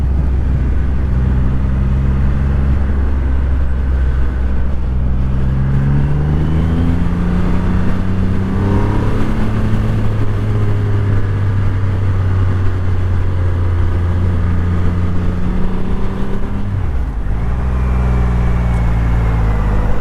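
Triumph Rocket III motorcycle exhaust, a deep, loud, close, continuous engine note that rises and falls through repeated throttle revs.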